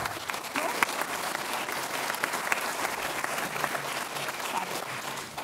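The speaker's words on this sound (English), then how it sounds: "Let's give Vicky a round of applause." A conference audience gives a round of applause to welcome a speaker, a sustained, even patter of many hands clapping from a mid-distance crowd, steady throughout.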